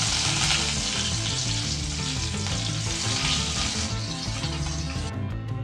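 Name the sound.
dried red chillies and curry leaves frying in tempering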